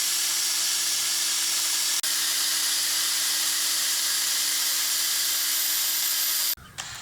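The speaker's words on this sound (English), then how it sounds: "The crank knob is pretty rusted and pitted. I'm going to buff it out a little bit" A rusted, pitted metal crank knob from a Yates American B244 bandsaw table crank is buffed on a power buffer, giving a loud, steady whirring hiss that runs almost unbroken before cutting off near the end.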